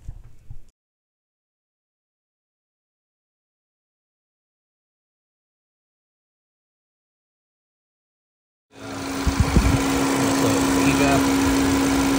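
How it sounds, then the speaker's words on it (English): A 2012-2018 Ford Focus engine idles while the vapor canister purge valve is diagnosed, a steady close hum and whoosh of vacuum that rises after a long stretch of silence, preceded by a brief burst of sound. "This is where you can actually hear the vacuum."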